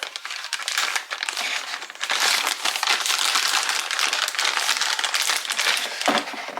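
A plastic packet holding a set of children's spoons and forks crinkles and crackles steadily as it is handled up close, with dense rustling throughout and a brief lull near the end.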